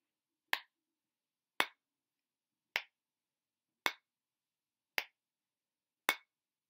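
Spoons tapped together to imitate a woodblock, six sharp, dry clicks evenly spaced about a second apart, close and isolated against silence.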